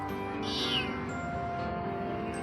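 A cat meows in a drama scene, with a single soft, drawn-out meow under a steady background tone. It sounds fairly close and quiet, with no speech over it.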